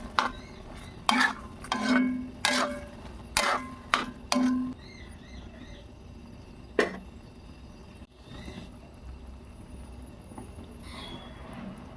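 Soybean chunks stirred into a thick gravy in a pan for soyabean kosha, giving a run of loud, close scraping strokes in quick succession, then quieter intermittent stirring over a low background.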